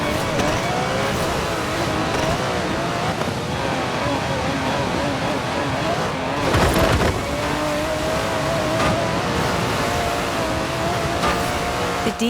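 An Aston Martin DB11 in Forza Horizon 4 drives with a sustained engine drone and shifting revs, loud and continuous, with a brief surge midway. A narrator speaks over it.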